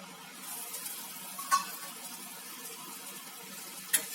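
Bitter gourd frying in oil in a pan, a soft steady sizzle with a couple of brief louder crackles, fairly quiet and heard alone.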